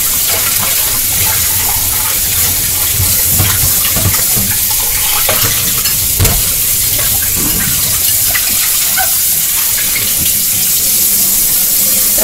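Kitchen tap water runs loud and steady into a sink while a bowl is washed out, a constant close splashing rush with small clinks of the bowl under the flow and no talking.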